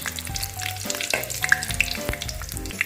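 Dried red chili pieces sizzle and crackle in hot oil for an olive pickle, with dense close popping and spitting throughout and no talking.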